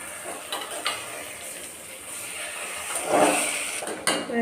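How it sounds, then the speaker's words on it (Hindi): Chicken being stirred and mixed in a full handi pot, with soft scraping and sizzling that swells near the end and a few faint clinks of the utensil, close and moderately quiet. "ଏବେ ଆକୁ ଭଲସେ ପୁରା ମିକ୍ସ କରିଦେବା।"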